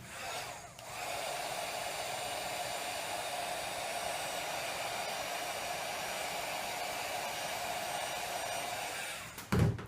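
A hair dryer blows steadily on a layer of mixed media paint, a constant close whooshing drone for several seconds that starts after a brief dip and cuts off with a short bump at the end.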